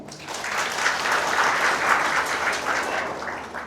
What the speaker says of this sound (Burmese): အားလုံးလက်ခုပ်တီးအောင်